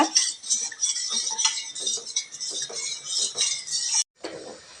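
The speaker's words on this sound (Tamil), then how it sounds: "அடிகனமான பாத்திரம் இல்லைன்னா ஏதோ ஒரு பாத்திரம் வச்சு கைவிடாமல் கொஞ்சம் நேரம் கிண்டிக்கிட்டே இருங்க." Spoon stirring finger millet milk in a pot over a low flame, quick continuous metallic scraping and clinking for about four seconds, then a brief pause and a softer tap.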